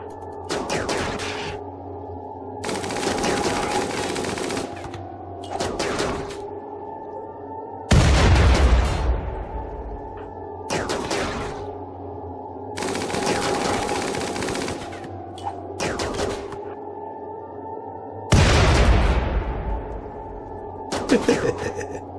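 Gunfire from colonists shooting in Rimworld: repeated bursts of rapid machine-gun fire alternating with heavy booming blasts, loud and close, with short pauses between volleys.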